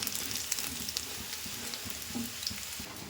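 Chicken balls deep-fry in hot oil with a constant low sizzle and scattered crackles and pops, recorded close and moderately quiet with no voices.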